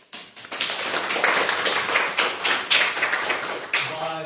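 Lively applause at a school and village gathering honouring a birthday, a burst of many clapping hands that starts abruptly and continues with uneven peaks, with a bit of voice at the close.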